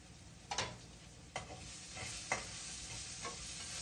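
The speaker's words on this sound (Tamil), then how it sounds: "இப்போ அவிச்சு வச்ச பொட்டேட்டோவை இப்படி மேஷ் பண்ண வேணும்" Boiled potatoes are mashed in a pan for potato masala, with four soft, rhythmic pressing strokes under a faint steady sizzle.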